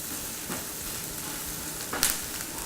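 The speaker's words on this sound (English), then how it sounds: "I'm just going to saute it all together until I start to see the orzo turning just barely golden brown." Orzo sautés in a pan with a quiet, continuous sizzle, broken by a couple of soft scraping stirs and one brief sharper crackle near the end.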